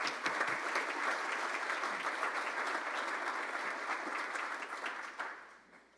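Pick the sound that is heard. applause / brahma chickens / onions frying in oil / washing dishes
applause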